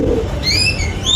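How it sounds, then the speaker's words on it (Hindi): Pigeons kept as pets coo nearby, with a couple of soft rising coos over a low rustling murmur. "तो गाइस अपने पूरे कबूतर आ गए।"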